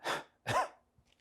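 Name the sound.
huff cough breathing exercise demonstration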